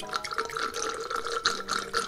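Wine poured through a plastic aerator gadget gurgles and bubbles as it swirls into a glass, with rapid irregular drips and liquid trickling, close and clear.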